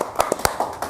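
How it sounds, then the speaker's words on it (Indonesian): Sparse clapping at a community discussion event, a handful of distinct, separate hand claps spaced irregularly across one second, close and fairly crisp. "Tepuk tangan dong buat teman."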